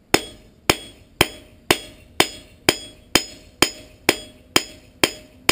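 Hot steel struck on an anvil while forging a slot punch, eleven evenly spaced sharp ringing hammer blows about half a second apart, each with a brief metallic decay, close and loud with no talking.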